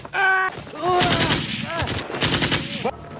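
A frantic burst of automatic gunfire as panicked soldiers shoot blindly. It comes as loud, dense volleys mixed with shouting voices and groans, and pauses briefly before a sharp tail.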